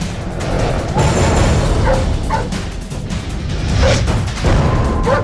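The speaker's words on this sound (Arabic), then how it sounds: "ناري ديال بحال شي وحش الكلب ديال الكارديان" A guard dog barks a few times at a distance, muffled beneath loud, rumbling background noise.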